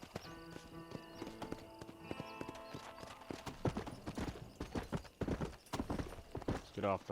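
Horse hooves clip-clop in a steady trot beneath Red Dead Redemption game music and voices, a horse snorting near the end.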